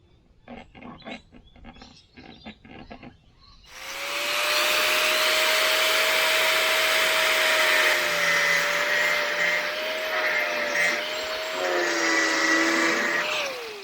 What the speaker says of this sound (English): So we cut the top side and the bottom side with the grinder.